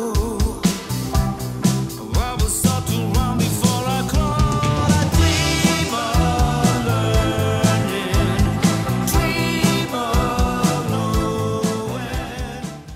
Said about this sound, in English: there you have my sampler instrument from my own drum set